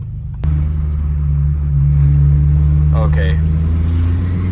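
A smoking 20-year-old VW GTI engine idles with a steady low rumble, then rises slightly as it is revved, close and loud, with a brief spoken word near the start.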